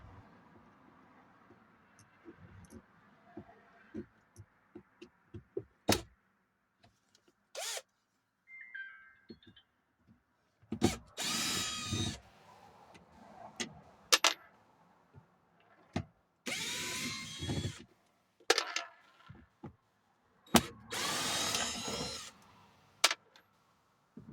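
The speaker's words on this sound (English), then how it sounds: "I'm gonna remove a couple screws." A power drill removing screws on a Chevy Silverado whirs in several short bursts, each a few seconds long, separated by quiet gaps and small handling clicks, close by.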